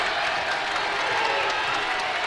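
A home basketball crowd at a women's college game, Marquette against Drake, roars with applause and cheering after a three-pointer, a dense, loud, sustained wash of noise with no gaps.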